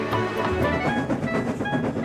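Cartoon steam engine pulling its train along the line, a steady rumbling clatter of wheels and carriages running continuously at close range with no talk.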